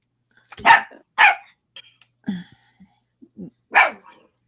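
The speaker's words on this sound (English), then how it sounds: "I don't know who she's barking at." A pet dog barks in a series of sharp, loud barks spaced irregularly across a few seconds, with quiet gaps between them and no voices.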